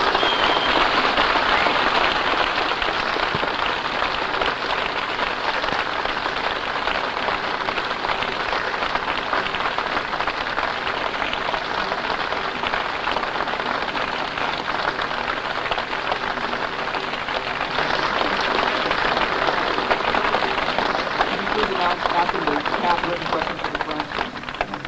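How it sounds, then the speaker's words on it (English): An audience gives a speaker sustained, dense applause after his introduction at a speaking event, a steady roar of many hands clapping that holds loud and even throughout. "Thank you very kindly for your heartwarming applause."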